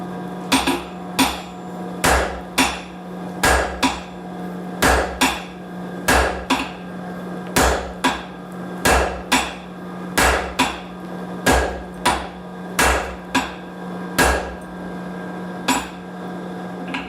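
A hammer forging hot steel into a chisel on an anvil, sharp ringing blows struck nice and hard in a steady rhythm, some in quick pairs, over a constant low hum, with no talk.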